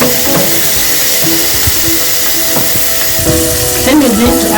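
Ingredients for fried pepper steak simmer and sizzle in a pan, a loud close hiss running steadily throughout with a few light knocks and a brief voice-like sound near the end.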